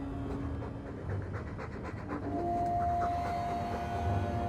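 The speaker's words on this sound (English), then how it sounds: "All that noisy dog breath, day in, day out" Dog panting in the fantasy role-playing game Dragon Age 2, a steady rhythmic breathing that runs the whole stretch alone, with low background ambience and a faint sustained tone joining partway through.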